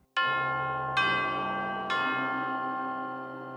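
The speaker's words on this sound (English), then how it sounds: "tubular bells in the middle with the Steinway," Tubular bells blended with a Steinway piano, struck three times in a steady rhythm, each bright metallic chime ringing clearly and decaying slowly.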